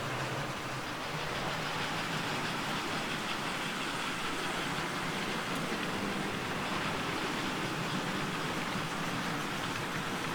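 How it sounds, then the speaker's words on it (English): A model train locomotive runs along a layout with operating accessories, giving a steady, dense rolling rumble and continuous wheel clatter that stays constant throughout with no talking. "The locomotive going by right now is running because of the armature"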